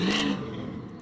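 A small block Chevy V8 revs in a short, loud, close burst that quickly falls back to a rougher, quieter engine rumble.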